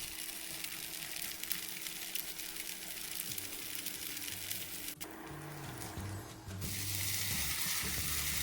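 A thin pancake (blinchik) fries in a hot pan, giving a loud, continuous crackling sizzle with a low hum beneath, briefly interrupted before the sizzle resumes more intensely.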